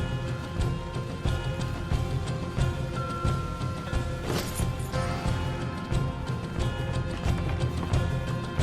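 Horses galloping in Red Dead Redemption 2, a dense, loud, continuous drumming of hooves with crashing game noise throughout.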